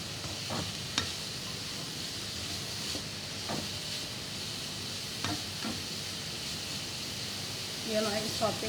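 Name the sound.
minced meat sautéing in a pan with pepper and salt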